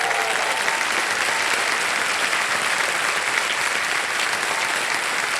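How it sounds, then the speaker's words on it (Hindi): A studio audience on a TV quiz game show breaks into steady, even applause after a contestant wins a prize, dense clapping running unbroken from start to finish at moderate loudness. "तालियां बज जाए इनके लिए।"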